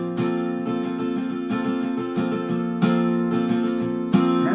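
Guitar strumming the chorus of a song in steady rhythmic strokes with ringing chords, solo and close, with no voices.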